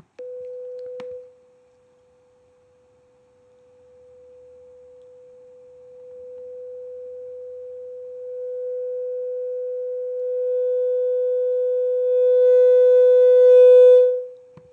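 A steady pure test tone plays through a speaker, starting with a short burst, then returning quietly and stepping up in loudness in stages, gaining audible harmonic buzz and distortion at the highest levels before cutting off.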